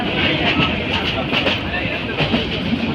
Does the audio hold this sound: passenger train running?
yes